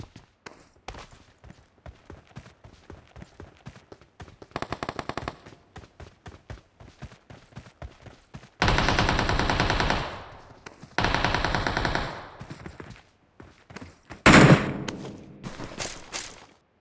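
Automatic weapon fire in the mobile battle-royale game PUBG Mobile rattles in repeated bursts, from short clipped volleys to long sustained streams, with a loud close burst near the end and brief pauses between.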